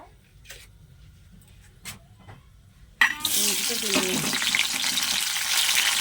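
A bay leaf drops into hot oil in a wok and bursts into loud, continuous sizzling and crackling after a few quiet seconds of faint handling clicks.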